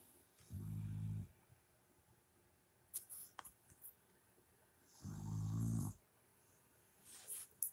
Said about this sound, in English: That's her snoring like that.